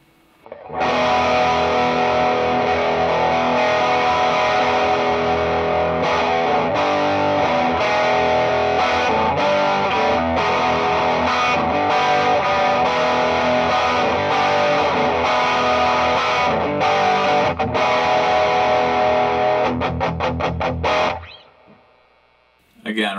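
Electric guitar played through a Strymon Sunset dual overdrive pedal on its hard setting, a loud, thick, distorted tone of sustained chords and riffs lasting about twenty seconds before a brief drop and a short final strum.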